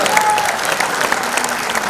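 Audience applause at Kailash Kher's birthday celebration, a dense, steady wash of clapping from a large crowd, lively and sustained across the whole moment with faint crowd murmur beneath.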